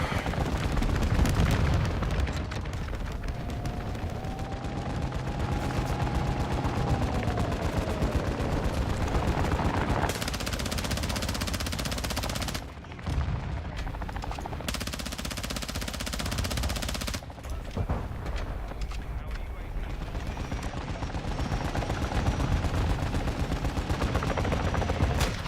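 Dense, sustained gunfire from an M16 rifle in a video game, loud and continuous with sharp reports layered over a busy game soundscape, heard without talking.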